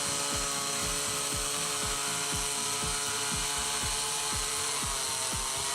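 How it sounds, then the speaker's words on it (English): Chainsaw mill cutting through a log gives a loud, continuous high-pitched whine with a regular pulsing undertone roughly twice a second, close and steady with no voices. "as the saw makes its first pass, you can already tell this isn't backyard DIY, it's pro-level milling done right"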